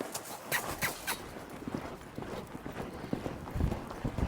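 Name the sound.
horse hooves running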